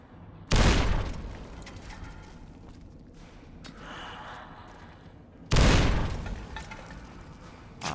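Two grenade explosions from the game Fallout New Vegas Dead Money go off a few seconds apart, each a loud, sharp blast with a short decaying rumble, separated by quieter game ambience.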